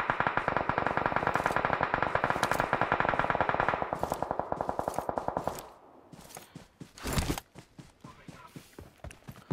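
M416 assault rifle fired in PUBG Mobile, a long run of rapid automatic shots loud and close for about five seconds, followed by scattered, more distant bursts and single shots.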